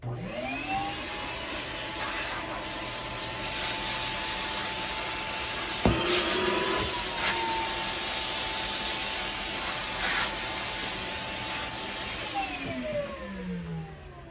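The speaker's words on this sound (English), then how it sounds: "you want to take the HEPA vac and vacuum the work area to get rid of any dust or debris that is generated" HEPA vacuum cleaning dust and debris from a work area after disturbing lead paint, a loud steady motor whine with shifting hiss as the nozzle moves, and a sharp knock partway through.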